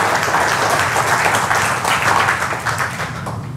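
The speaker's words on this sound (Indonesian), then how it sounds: "tepuk tangan lu buat platinum nanoparticles." A seminar audience at a health talk on Kangen water breaks into loud, dense applause, sustained clapping from a close crowd that slowly thins toward the end.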